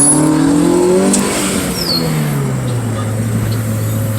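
Car engine at a drive-by classic car show, revving loudly up close and then settling into a steady idle-like rumble, with a brief passing whine.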